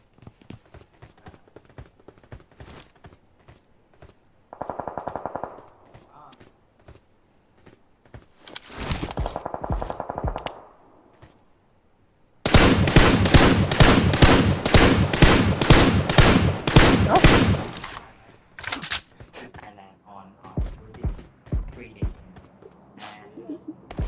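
Rapid bursts of automatic gunfire in PUBG Mobile rattle out in a long sustained volley, preceded by shorter scattered shots and followed by fainter pops and thuds as a vehicle is shot until it explodes.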